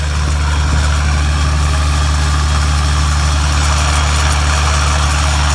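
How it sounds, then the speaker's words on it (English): A Gleaner M3 combine with a Deutz engine runs steadily while unloading corn during harvest, a loud, continuous low diesel drone with a constant mechanical hum and no voices. "I am unloading the corn that's inside of the other Gleaner M3."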